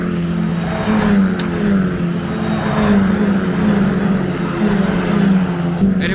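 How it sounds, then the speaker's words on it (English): F4 race cars circulating at Spa-Francorchamps produce a loud, steady engine drone that swells slightly as they pass, continuous for several seconds with no talk. "now we have to wait for the F4 cars to come round again"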